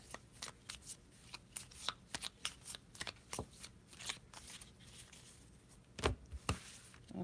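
Tarot cards shuffled and handled in sharp, quick riffles and slaps, a rapid irregular run of crisp papery bursts close by with brief pauses between, no talking.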